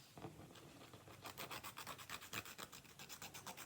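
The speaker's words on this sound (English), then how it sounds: "Little ASMR filing and clipping." A nail file rasps across semi-cured gel nail strips in rapid, even back-and-forth strokes, a soft, close scratchy texture with no voices.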